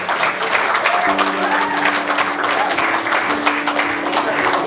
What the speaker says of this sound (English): A round of applause for Julad Catering.